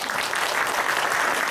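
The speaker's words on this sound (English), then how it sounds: "Let's have a round of applause to welcome." Audience at a science conference at Chung Yuan Christian University applauds to welcome a speaker, steady and even clapping from a seated crowd, with no voices over it.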